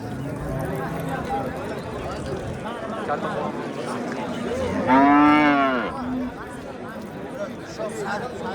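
At a busy cattle market in Kattaqorgon, a cow lets out one loud, drawn-out moo over a steady crowd of voices, with other animals faintly audible.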